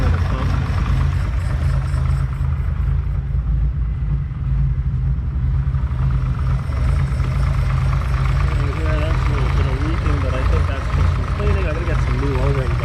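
A Ferrari 365 GTC/4 running on stale fuel after sitting as a non-runner, its engine rumbling steadily up close with an uneven, sputtering idle, while a person talks over it.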